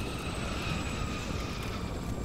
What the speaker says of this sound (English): Helicopter is arriving